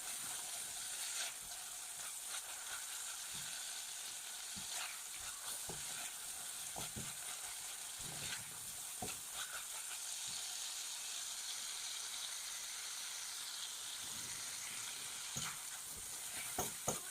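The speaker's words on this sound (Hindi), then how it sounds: "ये चिकन डाल के मैं अब दोबारा से थोड़ा सा फ्राई करूँगी इसको" Boneless chicken cubes fry in a pan with a steady, fairly quiet sizzle and crackle, broken by occasional sharp pops and the scrape of stirring.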